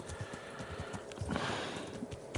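Horse hooves clip-clop in a steady trotting rhythm in the video game Kingdom Come Deliverance, soft and fairly quiet beneath faint background ambience.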